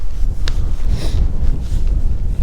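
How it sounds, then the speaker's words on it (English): Steady wind buffeting the microphone, a low rumbling roar with a few gusty swells, continuous and fairly loud throughout. "A little windy today"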